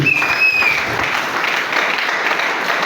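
A church congregation bursts into applause to acclaim the word of God, dense, steady clapping filling the room at close range for the whole stretch.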